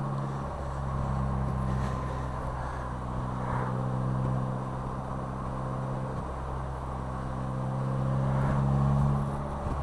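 A Polaris Slingshot three-wheeler cruising along the road, its engine a steady low drone that swells slightly near the end, heard up close with no talking.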